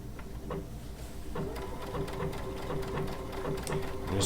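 A Baby Lock Altair sewing machine fitted with a circular sewing attachment runs quietly and steadily, a soft even needle chatter over a low motor hum, close but faint.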